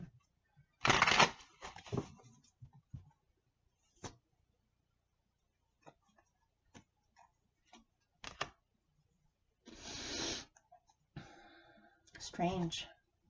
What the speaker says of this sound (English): Okay, I'm going to shuffle this one last time.